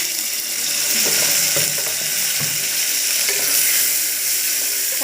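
Chopped tomatoes sizzle loudly in a pan with golden-brown onions, coriander and curry leaves. The hiss is steady and close, broken by a few soft stirring knocks.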